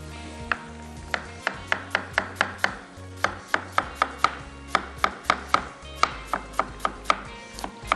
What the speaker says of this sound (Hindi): मैं यहाँ पे गोभी का इस्तेमाल कर रहा हूँ, सलाद पत्ते का इस्तेमाल कर रहा हूँ, आइसबर्ग का और प्याज का। ठीक है जी, इसको हम कर लेंगे जुलियन कट।